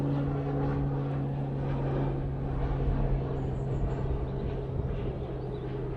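Pilatus PC-12 turboprop departing Manchester Airport, a moderate droning engine and propeller hum with a steady low tone that swells slightly mid-way, no voices.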